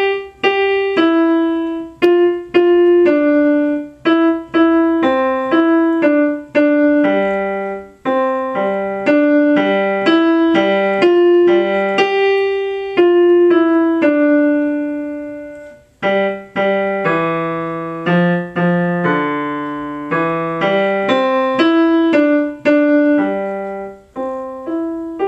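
Solo piano plays a beginner Level 1 piece in C position, a simple clear melody of separate struck notes in a steady moderate rhythm, close and loud, without speech.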